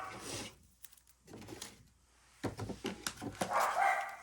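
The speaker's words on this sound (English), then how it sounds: "I'm sorry about my dog. I don't know what he's barking at." Several sharp dog barks from a single dog sound at close range in an indoor room, with a quiet pause between the first bursts and then a denser run of barks toward the end.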